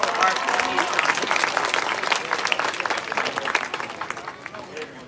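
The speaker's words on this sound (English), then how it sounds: "Please let us give them a round of applause for our appreciation." Audience applauding performing arts graduates at a valedictory service, a steady, dense patter of many hands clapping that carries on for several seconds, with faint crowd murmur underneath.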